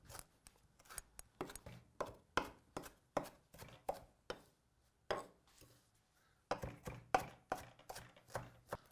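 Knife chopping vegetables on a cutting board, quick rhythmic bursts of sharp close chops separated by short pauses.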